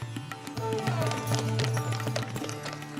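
Hooves of large brewery dray horses clip-clop steadily on a hard road at a brewing museum, sharp taps repeating over a background hum, close and moderately loud.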